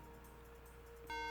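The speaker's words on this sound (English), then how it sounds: "it made that beep sound" A Mac computer gives a single steady electronic beep during a macOS install, rising suddenly from a quiet background hum near the end and holding as a clear tone with overtones.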